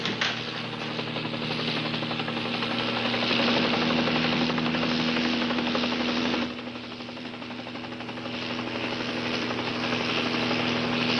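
A helicopter flies overhead in a police patrol setting, a loud, steady rotor and engine drone with a strong constant hum that swells in the middle and then eases slightly, with no talking.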